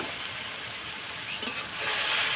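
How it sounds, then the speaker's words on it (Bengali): Masala paste with salt, turmeric, coriander powder and a pinch of sugar fries in oil, giving a continuous close hiss and sizzle that grows slightly louder toward the end, with no voices. "এগুলো সব দিয়ে ভালো করে মশলাটা কষিয়ে নেব"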